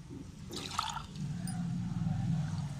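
Water mixed with Gau Kripa Amritam is poured into a large potted plant, giving a soft close trickle and splash that runs steadily for a few seconds with no talking.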